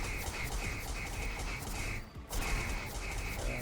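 Vehicle-mounted weapons firing in a video game, a fast rapid burst of shots repeating in a rhythmic pattern with a brief pause midway, steady and moderately loud.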